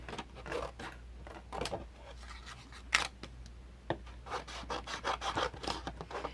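Quiet, close cutting of pocket album paper and chipboard at an angle: a series of soft snips and rubbing scrapes in irregular strokes over low background hum.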